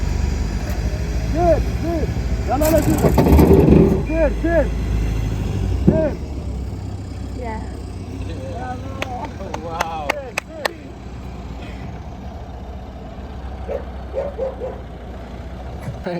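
A vehicle engine rumbles at night as the car is pulled out, with low continuous drone, bursts of noise and intermittent beeps, while several people talk over it.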